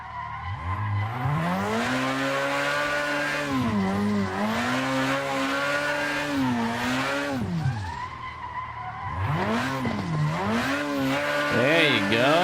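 A car in the Assetto Corsa racing game downshifts and drifts, its engine whining and rising through rev changes while tires squeal continuously, with a brief lull before the engine climbs again near the end.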